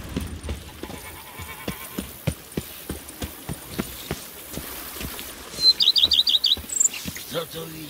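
Horse hooves clip-clop at a steady galloping rhythm in The Witcher 3, with bird chirps twittering briefly over the hoofbeats partway through.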